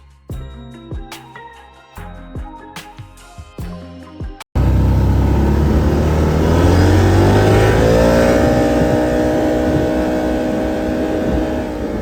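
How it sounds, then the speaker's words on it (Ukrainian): Quad bike engine revving loudly and steadily out in a field, a continuous close roar with rising pitch, preceded by a few seconds of other rhythmic sound. "ми всі знову сіли на квадроцикли і поїхали в поле"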